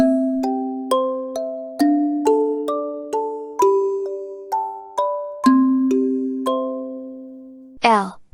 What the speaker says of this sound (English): K is for kalimba.